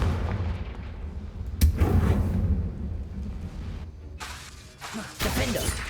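A Confringo blasting spell explodes in the Hogwarts Legacy video game, with heavy booming bursts and crackling blasts that come in several loud hits amid ongoing combat noise.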